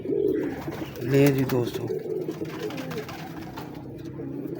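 A flown female pigeon coos nearby, a soft low throaty call rising briefly, while someone speaks over it.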